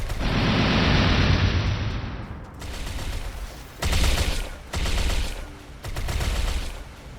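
Rapid bullet fire in the MapleStory video game comes as a long, dense, loud barrage followed by three shorter bursts with brief pauses between, harsh and close with no talk.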